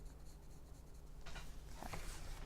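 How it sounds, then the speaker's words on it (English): Soft, close scratching of pencil shading on paper, a quiet continuous rub that grows denser and brighter in quick back-and-forth strokes toward the end. "Trying to get my pencil there to fill that area in."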